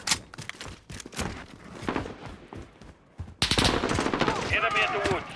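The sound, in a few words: gunfire, likely in a video game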